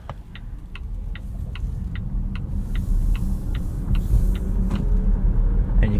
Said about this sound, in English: you can see very decent acceleration here just from that rear electric motor